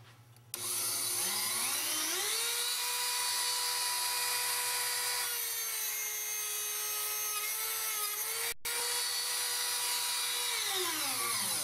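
Chop-saw-style cutter friction-cutting brass pivot wire for wooden clock movement gears: a loud, sustained high-pitched whine with rising and falling tone as the blade bites, continuous for about eleven seconds with one brief dropout, no voices.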